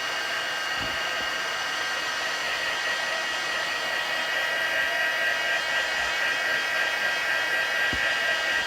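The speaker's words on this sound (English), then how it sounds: "I'm going to use my heat gun just to quicken this up a bit" A heat gun blows hot air steadily and loudly while frosting a cherub tea light, its even broadband hiss continuous throughout, with a couple of faint knocks.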